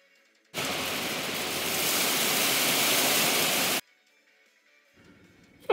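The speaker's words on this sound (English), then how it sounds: "A little passing shower there, nothing too severe." A light passing rain shower hisses as a steady, even wash of noise during outdoor pallet-wood upcycling, starting and stopping abruptly, with near silence before and after.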